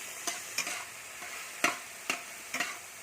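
Homemade chowpan is stir-fried in a pan, with five or six sharp scraping spatula strokes spaced unevenly over a low sizzle, close and fairly quiet.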